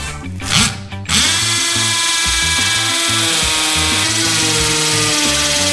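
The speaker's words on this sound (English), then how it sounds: "we're going to pre-drill for the concrete masonry nails" A power drill with a Tapcon 3/16 bit runs steadily, pre-drilling into concrete for masonry nails while mounting a garage workbench; a loud, continuous whine fills the clip after a brief start-up stutter.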